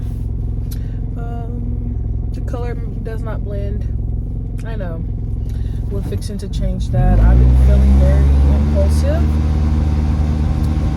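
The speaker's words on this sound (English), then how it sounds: "Sorry for the noise. We're in a whole different car." The cabin of a moving car holds a steady low engine rumble and road hum that swells and grows louder partway through, under women chatting.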